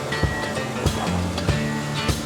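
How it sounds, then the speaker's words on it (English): A car wash jet sprays water steadily over a campervan being cleaned of Sahara sand in Morocco, a continuous loud hissing rush with intermittent thumps and splashes. "we're getting a car wash"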